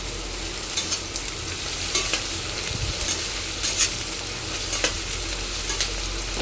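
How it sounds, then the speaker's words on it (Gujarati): Vegetables sauté for vaghareli khichdi in a pan, with a constant close sizzle and occasional louder scraping clicks of a spoon stirring. "આપણું શાકભાજી સતરાઈ ગયું છે।"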